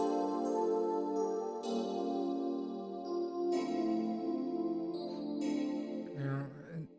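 Sustained synth chords shift every couple of seconds, with a washy, lingering Valhalla VintageVerb reverb tail blurring the notes together; no voices.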